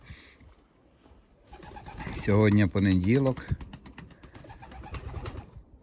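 Sport racing pigeons coo in a loft, a few loud, close bursts of throaty cooing in the middle, with wing flutters and someone speaking briefly before and around them.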